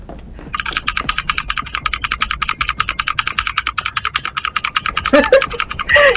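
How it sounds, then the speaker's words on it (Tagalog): Rapid, steady computer keyboard typing during a Dead by Daylight game session, clattering keystrokes running close and loud for several seconds before a few sharper clicks near the end. "Ingay nung keyboard eh."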